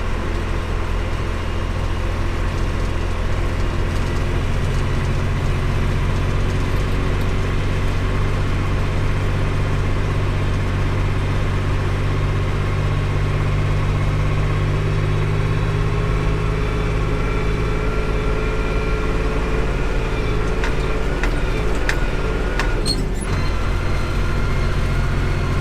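Valmet 505 tractor engine pulling steadily in third gear, a continuous low droning hum with stable tones, close and even throughout, with a few rattles near the end and no talk.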